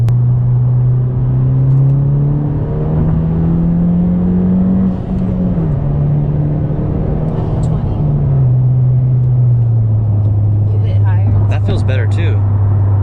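A 2020 Honda Civic Si with a Ktuner tune pulls hard through a gear from inside the cabin, a loud steady engine drone rising in pitch and dipping at a shift, with voices talking over it near the end.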